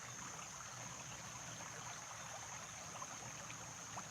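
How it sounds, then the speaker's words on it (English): A babbling stream flows steadily in the open air, a continuous soft wash of trickling water held at an even level throughout, with no voices. "So the sound of the stream, some people say babbling brook."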